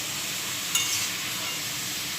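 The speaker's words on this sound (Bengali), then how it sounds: "আমাদের কুমড়ো পাতাটা ভাজা হয়ে গেছে" Pumpkin leaves frying in a pan: a close, continuous sizzle with a steady hiss and faint crackles, a brief brighter flare partway through, and no talking.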